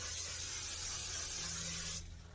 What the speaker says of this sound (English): And I'm gonna spray them. A little bit of canola oil.